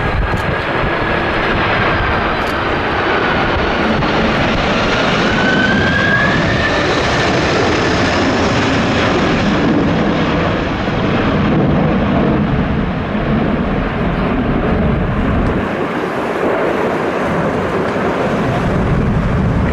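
Jet engines roar steadily as a Boeing 747 departs from runway 16 right, a loud, continuous wash of engine noise with a faint shifting whine over about twenty seconds and no voices.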